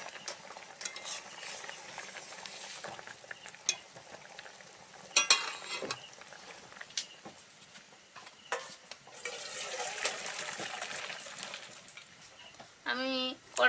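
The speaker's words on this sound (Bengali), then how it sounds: "এই শুকনো কড়াতে কাজুগুলো একটু ভেজে নিচ্ছি" Cashews dry-roasting in a dry kadai over a stove, with intermittent scraping and stirring, light sizzle, and metal utensil clinks against the pan, a few louder clatters near the end.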